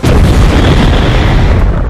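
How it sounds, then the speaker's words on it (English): A massive explosion erupts at Ares' death in the video game God of War, a loud, sustained roaring blast with deep rumbling low end that fills the whole moment without any talking. "Ares' death comes with a nuclear explosion, apparently"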